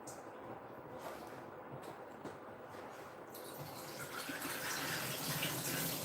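Tap water running over mushrooms being washed and rinsed, a soft continuous splash that grows louder and brighter toward the end, with no talking.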